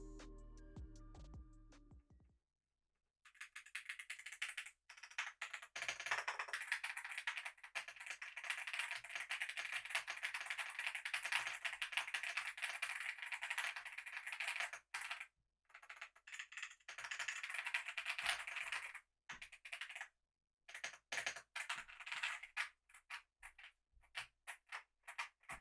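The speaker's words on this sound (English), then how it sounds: "Typing on this keyboard feels nice thanks to the gasket mount structure" Rapid continuous typing on a Yunzii AL68 gasket-mount 65% mechanical keyboard, dense clacky keystrokes close up with brief pauses between bursts, after a short musical intro.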